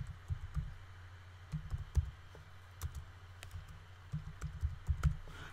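Keys clack on a computer keyboard as a name is typed into a modding tool's armor menu, with bursts of quick, close taps separated by short pauses.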